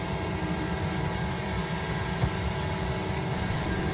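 An Autoterm Air 4D diesel heater running at full power gives a steady, even roar with a broad hum. It holds at a constant level for the whole stretch, with no voices.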